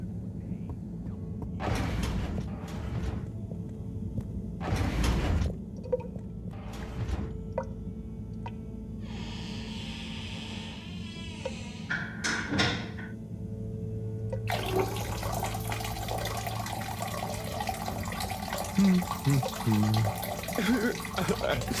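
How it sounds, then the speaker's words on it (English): Shower water hisses and runs steadily in a game bathroom in Harold Halibut, starting partway in as a broad, continuous spray after scattered knocks and clatter, with no voices over it. "Sounds like the shower is playing up"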